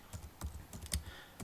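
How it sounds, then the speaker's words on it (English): Someone types on a computer keyboard while indexing records, a series of soft, irregular clacking keystrokes close by with no talking. "typing in exactly what's in the highlighted area"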